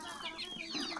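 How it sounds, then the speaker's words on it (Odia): Chickens pecking at rice scattered for them give soft, overlapping clucks at a modest distance. The clucking is fairly quiet and continuous, with no speech. "ଏରେ ପପୁନ କୁକୁଡ଼ାକୁ ଚାଉଳ ଦଉଛି, ସେତିକି ଦିଅ"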